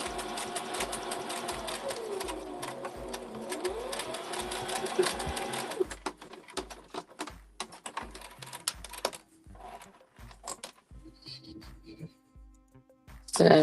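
A sewing machine runs in a steady, close mechanical hum with a regular rapid needle beat for about six seconds, then stops and starts in shorter irregular bursts amid handling clicks, with a voice at the very end.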